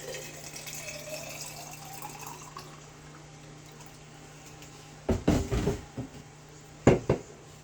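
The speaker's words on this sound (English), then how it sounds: "I want to put some water in here." Water is poured into a container to mix a protein drink, a few short splashing bursts near the end following a quiet stretch of low hum, close to the microphone.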